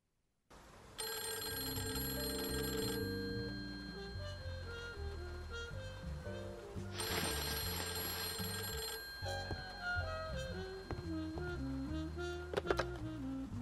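An old-style telephone bell rings in the noir video game Face Noir, sounding in repeated bursts over a moody musical score that stays loud throughout.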